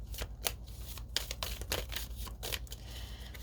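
A tarot card deck being shuffled, with quick papery riffles and flutters in several bursts, some cards slipping and falling, close and fairly soft, with no talking.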